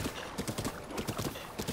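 Horse hooves clip-clop at a brisk, steady gallop rhythm in Zelda Breath of the Wild, a close run of quick, even thuds with no talk over them.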